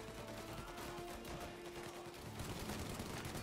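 Gunfire in the video game Mafia Definitive Edition, heard as faint, distant crackling shots in a fairly steady stream under a soft background hum.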